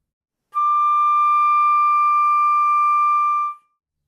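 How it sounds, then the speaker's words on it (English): A flute sounds third-octave D natural as one high, pure sustained note held steadily for about three seconds, loud and close with no voice. "To finger D natural in the third octave,"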